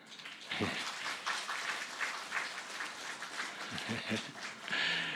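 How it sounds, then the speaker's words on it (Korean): A church congregation applauds together during a Sunday service, a dense patter of clapping that swells and continues for several seconds, with a voice faintly heard beneath. "여러분 또 격려의 박수 해주시기 바랍니다"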